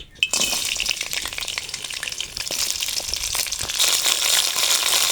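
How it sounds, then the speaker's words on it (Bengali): Crabs dropped into hot oil in a wok start with a sharp burst and then settle into a loud, continuous crackling sizzle that swells toward the end, close and without talk. "গরম হয়ে গেছে, কাঁকড়াগুলো দিয়ে দেবো।"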